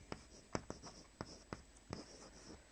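Chalk tapping and scratching on a board during a maths lesson on logarithms, a series of sharp, quiet strokes and taps spaced irregularly in a silent room.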